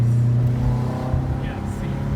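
A 2016 Subaru Impreza 2.0i engine revs high inside the cabin, a steady strained drone under a man's speech.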